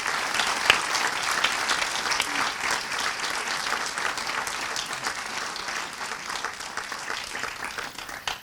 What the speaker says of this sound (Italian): Il primo grande applauso, the first great applause of this year, di quest'anno, is for you e per voi.